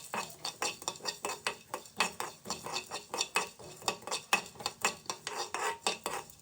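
Cumin, black pepper, fennel, fenugreek and ajwain seeds being roasted in a pan for a fish curry, with a rapid, rhythmic series of metal spoon scrapes and clinks stirring them, close up and steady.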